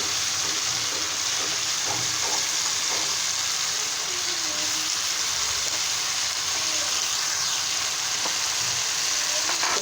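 Rohu fish head fries in a spice paste, a soft, steady sizzle and hiss with a few faint stirring clinks, heard close but at low volume, with no voices over it.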